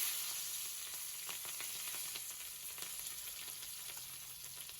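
Garlic cloves and dried red chillies frying in hot oil, a steady close sizzle with scattered crackling pops throughout, no voices.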